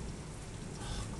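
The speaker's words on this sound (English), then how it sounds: "Raining heck hard now." Heavy rain during a thunderstorm at night, a steady dense hiss of drops pouring down, even and moderately quiet with no voices.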